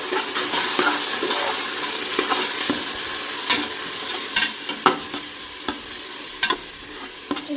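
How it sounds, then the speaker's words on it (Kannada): Ground masala and ginger-garlic paste sizzling steadily in hot oil in a pan for kothambari bath, with a loud, continuous frying hiss broken by scattered light scrapes and taps of a spoon, no voices. "ಈ ಮಸಾಲೆನ ಆ್ಯಡ್ ಮಾಡಿ ಆ್ಯಡ್ ಮಾಡಿ ಫ್ರೈ ಮಾಡಿ"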